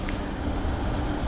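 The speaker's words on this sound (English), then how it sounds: "My first time from the train and it's a diesel!" A diesel train at Lille Flandres station in France rumbles steadily and loudly, a continuous low engine and rolling drone without pauses.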